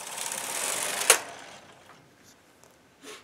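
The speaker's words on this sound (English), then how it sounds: "Then knit one row over all the stitches, tension 5," Carriage of a home knitting machine sliding across one row at tension 5, a single whirring pass that cuts off with a sharp clack, followed by faint small clicks and settling noises.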